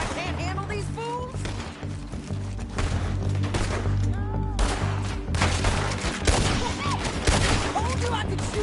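Video game gunfight in Red Dead Redemption 2: rapid, loud gunshots crack in dense bursts throughout, mixed with shouting voices and busy in-game background noise.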